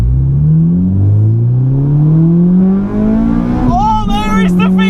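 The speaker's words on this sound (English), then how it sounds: "there is the VTEC, spins into the second gear, into third" A modified Phoenix Yellow Honda Civic EK9 Type R engine revs hard, climbing in pitch into VTEC and then through shifts into second and third gear, loud and close, with a voice speaking over it.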